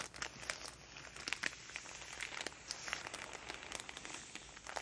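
Close, soft crinkling and rustling of packaging from cute stationery, a steady run of small crackles with a few sharper crisp pops, quiet and intimate with no talk.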